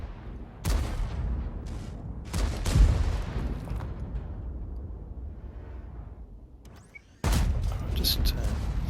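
A tank gun fires in World of Tanks, a sharp loud boom that decays into a rumbling tail, followed by more heavy blasts and scattered battle noise.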